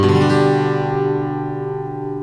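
A single guitar chord strummed once, ringing out clearly and sustaining as it slowly fades, with no voices.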